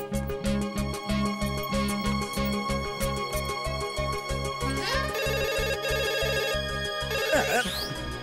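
A telephone rings with a repeating electronic ringtone melody over a steady pulsing beat, loud and close, continuing throughout.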